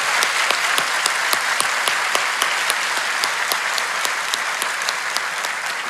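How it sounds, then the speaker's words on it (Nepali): An audience at a church conference gives a couple a round of hearty applause, dense and steady clapping throughout, loud and close, with no voices. "Now give a good clap to this couple."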